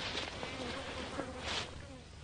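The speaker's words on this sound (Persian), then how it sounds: "اینجا چقدر پشه داره." Mosquitoes whine in a faint, thin buzz that hangs steadily in the background, partly masked by low room noise.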